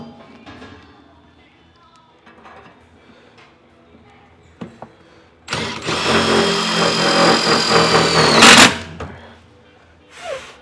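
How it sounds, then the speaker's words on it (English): A power driver spins self-tapping screws into a 1932 Ford roadster belly pan, a loud whirring burst of about three seconds rising above quieter workshop handling noises. "Just using some self-tapper screws here."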